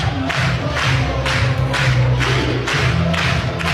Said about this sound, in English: And the crowd has worked into a frenzy here.